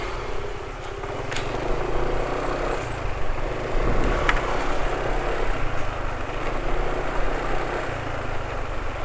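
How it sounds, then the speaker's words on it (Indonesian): A boat engine idles continuously with a steady, low, rough, throbbing rumble, unchanging in pace, with faint clicks on top. "Jadi ini ya suara mesinnya. Suaranya asak-asak tapi ya ini termasuk asak-asak wajar."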